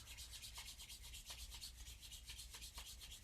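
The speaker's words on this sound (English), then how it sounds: "I'm rubbing my hands just like you." Palms of the hands rubbed together briskly in a steady back-and-forth swishing rhythm, close and continuous with no talking.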